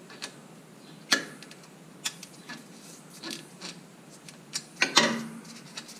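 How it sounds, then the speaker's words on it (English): Sparse clicks of a half-inch drive ratchet turning the gearbox fill plug on a Land Rover Defender, a few light ticks and a couple of sharper clacks, close and quiet against a faint background hiss. "half-inch drive socket, sorry, half-inch drive ratchet."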